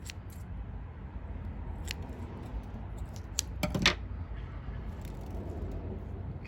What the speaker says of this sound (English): Just use these scissors because I don't want to dull anything else.